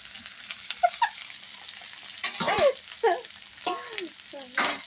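Ginger, garlic and onion frying in a pan, a steady sizzle underneath a few short voiced sounds and calls that come and go, close and moderately loud.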